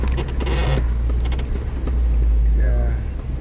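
An off-road vehicle, such as a Jeep Wrangler or Honda Rancher on Iron Clads, rumbles along beside a ravine. A loud, steady low engine drone runs throughout, with people talking over it.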